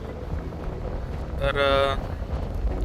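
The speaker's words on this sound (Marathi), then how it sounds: "प्रचंड वारा आणि थंड हवा वाहतीये" Strong cold wind blows at the coast near India's westernmost point in the Rann of Kutch, buffeting the microphone with a low, rough rumble while a person briefly speaks.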